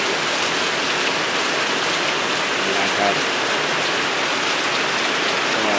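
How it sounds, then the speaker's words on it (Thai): Steady rain falls continuously, a dense, even hiss that fills the whole stretch without pause, with someone speaking briefly and quietly beneath it. "มาดูฝนตกนะฮะ"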